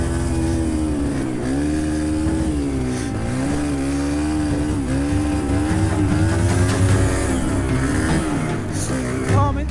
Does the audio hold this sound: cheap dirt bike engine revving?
yes